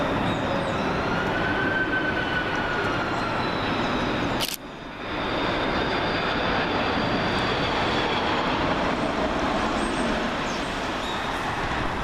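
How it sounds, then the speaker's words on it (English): A Jordan Aviation Airbus A330-203 arriving on runway 23R at Manchester Airport: a loud, steady jet roar that holds throughout, with one brief dip partway through. "Next up we have Jordan Aviation Airbus A330-203"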